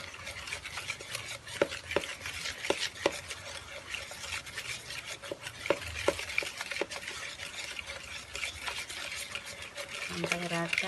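Margarine, powdered sugar and egg yolk being stirred in a bowl, a continuous soft scraping and rubbing with light taps against the sides, fairly faint and close.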